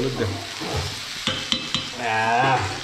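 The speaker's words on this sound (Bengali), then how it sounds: "দেখ, খিচুড়িটা নেড়ে দিই একবার।" Khichuri of rice and lentils being stirred in a pot, heard as a bubbling sizzle with several sharp clinks of the spoon against the metal, close up with no talking.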